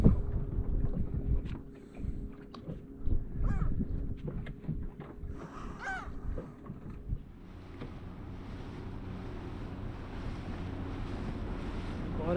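Seagulls call repeatedly near a boat on the sea, sharp squawking cries coming over wind and lapping water, followed by a steady engine-like rumble as the boat moves off.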